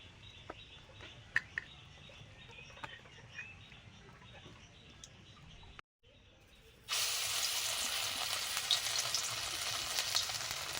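Bottle gourd leaves coated in batter hit hot oil, breaking into a loud, continuous sizzle after a quiet stretch of faint clinks and a brief silence.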